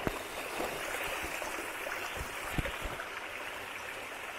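A mountain stream flows along a trail near a spring at Furnas, making a steady, close rush of water that fills the whole moment without pause, with no talking.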